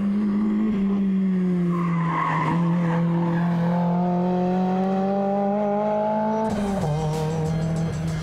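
A Toyota AE86 is racing through the corners of a track. Its engine holds a loud, steady, close drone that climbs slowly in pitch, with tire squeal as it turns and a drop in revs near the end.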